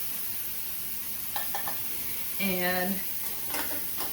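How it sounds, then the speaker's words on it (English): Pork tenderloin sears in a hot pan with a steady sizzle and frying hiss, while metal utensils scrape and clink as the pieces are flipped and a voice talks briefly over it. "I'm just going to flip these over, sear this other side"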